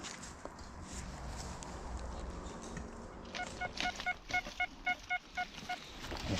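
An XP Deus metal detector in a forest gives a series of short, evenly spaced electronic beeps, about eight repeating tones over steady background hiss and faint rustling footsteps.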